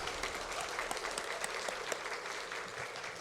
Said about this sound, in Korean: 큰 격려 박수 부탁드립니다.